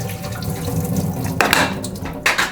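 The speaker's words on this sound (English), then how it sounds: "let's open this and just get the water out of there." Water pours out of a Breville coffee maker with grinder, first as a steady trickle, then in louder splashing gushes into a sink, heard close and alone.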